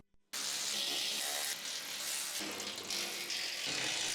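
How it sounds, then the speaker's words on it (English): Electric impact wrench with a medium H4 socket driving UTV side panel mounting bolts, a loud, close, continuous buzzing rattle that runs for several seconds with brief dips in intensity. "Use a medium H4 socket with the electric impact wrench to tighten the side panel mounting bolts."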